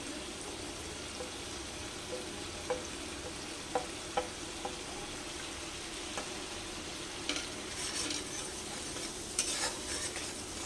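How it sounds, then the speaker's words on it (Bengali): Spices with turmeric fry in a pan on a low flame for a vegetarian potato dum, giving a quiet, steady sizzle. Occasional light clicks from stirring come through, and faint louder scraping near the end, with no talking. "দিয়ে এটাকে দুই এক মিনিট মতন ভেজে নেব মশলাটা"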